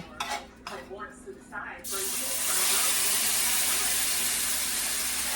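Water poured into a pan of thickening homemade gravy, starting with a few clinks and scrapes, then a loud, steady hissing sizzle as the liquid hits the hot pan.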